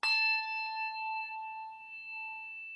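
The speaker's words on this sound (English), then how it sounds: "It gives a bending of the pitch by moving the bells that we would not normally do in a default ringing." A single struck bell rings out with a bright metallic clang, then sustains a clear, steady tone as it is moved to bend the pitch, fading slowly over about three seconds with nothing else heard.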